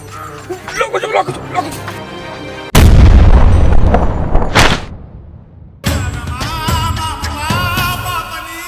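A Diwali firecracker bomb goes off in a village comedy skit with a sudden, very loud, roaring blast that slowly fades, while people shout and talk before and after it.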